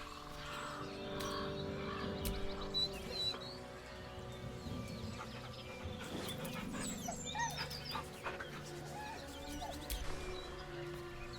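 A dog whines and pants softly over a steady low background hum, with brief whimpers rising and falling throughout.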